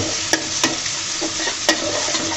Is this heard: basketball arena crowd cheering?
no